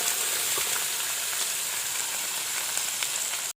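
Chopped onions frying in hot oil with cumin make a dense, even sizzle that hisses steadily and close by for a few seconds, alone without talk.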